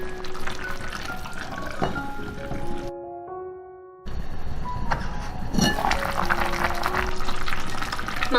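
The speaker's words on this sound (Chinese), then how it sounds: "全程要用小火焖，这样子羊肉才能够焖得软烂，汤汁也不会一下子收干" Lamb and radish stew simmering over low heat, a soft bubbling and squishing with gentle liquid movement, close and moderate in level, broken by a short near-silent gap partway through.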